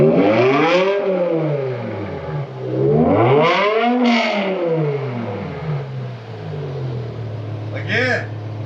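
A BMW E60 M5 V10 fitted with a new exhaust revs up and falls back twice in long, loud sweeping pulls. It then settles to a steady idle with a brief blip near the end, and voices talk over it.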